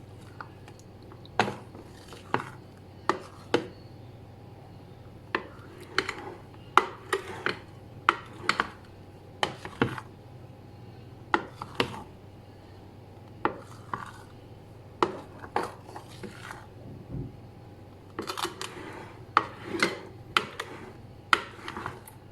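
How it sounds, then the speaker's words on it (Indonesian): Tiramisu cream mixture being stirred slowly in a bowl, with sparse, sharp taps and scrapes of the utensil against the sides repeating steadily, quiet and close, with no talk. "tinggal kita aduk rata seperti ini. Aduk perlahan."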